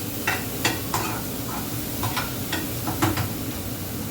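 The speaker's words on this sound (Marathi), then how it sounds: "आता शिमला मिर्च, गाजर आणि कांदा थोडासा परतून झाल्यानंतर" Capsicum, carrot and onion sauté in a pan for momo filling under a steady sizzle, with a spatula scraping and stirring roughly every half second at close range.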